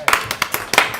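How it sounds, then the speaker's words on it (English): Audience clapping at a school district budget workshop meeting, a brief burst of several sharp, irregular hand claps close by, with no one talking over it. "Let's give claps."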